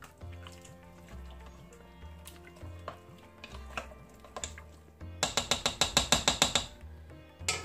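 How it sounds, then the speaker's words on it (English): A spoon stirs coconut chickpea curry inside an Instant Pot. Soft scraping comes first, then a quick run of sharp, rhythmic clinks against the metal insert near the end. "when you get everything in your Instant Pot, just mix it up"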